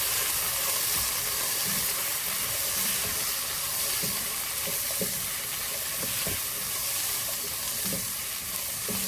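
A spoon stirs a cumin spice mixture in a pan over a steady sizzling hiss, with scattered soft scraping clicks throughout, close up and no talking.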